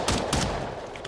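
Rapid gunfire from the vampire battle royale game Bloodhunt, a close burst of several shots early on, then fading into quieter rattling bursts.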